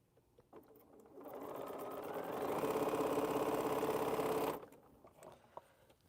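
A Bernina sewing machine stitches quilt blocks in a rapid, even mechanical whirr that builds up, runs steadily for about three seconds at close range, then stops, with light handling clicks before and after.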